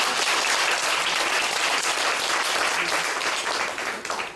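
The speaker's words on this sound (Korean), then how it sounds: "박수." A church congregation at a Sunday service applauds for several seconds in steady, dense clapping that fills the room, then trails off slightly at the end.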